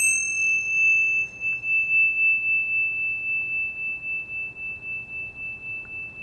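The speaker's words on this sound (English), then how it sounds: "the Tibetan chimes." Tibetan chimes ring out as one sustained, pure high tone that holds steady and even for several seconds over a faint low hum.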